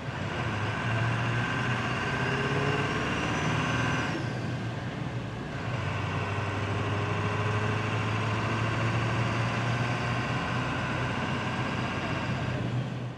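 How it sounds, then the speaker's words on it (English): A Ford F250 Dentside pickup with a swapped 7.3 diesel engine drones loudly and steadily from inside the cab while driving, a low throaty rumble that dips briefly in the middle before continuing. "There's just nothing that any sound deadening is going to keep out that really loud, throaty diesel."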